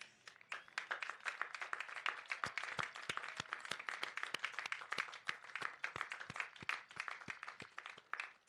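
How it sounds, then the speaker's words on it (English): Graduates at a college of business commencement ceremony give a round of applause, with distinct sharp claps close by over a softer background crowd of clapping, sustained throughout. "give them a round of applause of thanks"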